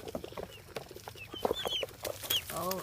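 Guinea fowl feed in a frenzy at night under a flashlight, with rapid overlapping clucks, chirps and sharp calls from several birds close by, growing busier toward the end.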